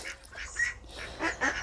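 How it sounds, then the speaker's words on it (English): Ducks in the background of a quail pen give several short, nasal quacks in irregular bursts, faint and somewhat distant over a quiet setting, with no voices. "You can hear the ducks in the background."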